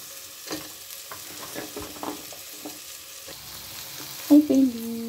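Bottle gourd pieces go into a hot pan and are stirred, giving a soft, ongoing sizzle with scattered scraping and clinking of a utensil against the pan, ending in a couple of louder knocks.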